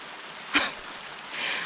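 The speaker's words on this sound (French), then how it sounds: "Alléluia, il pleut." Steady rain falls in a soft outdoor hiss, broad and even, with a brief louder clatter just after the start and the patter swelling slightly toward the end.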